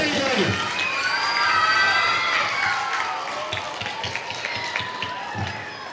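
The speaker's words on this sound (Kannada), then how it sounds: "ಜೋರು ಚಪ್ಪಾಳೆ, ವಿಷಯವಾದ ಚಪ್ಪಾಳೆ ಜೋರಾಗಿ ಜೋರಾಗಿ." A crowd of children and adults at a national-level karate tournament at Mount Carmel school in Belur cheers and shouts steadily for six seconds, with bursts of noise that may include clapping.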